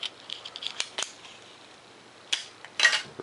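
Scissors snip paper a few times, sharp quick clicks and short cutting bursts spaced unevenly, close by in a quiet room.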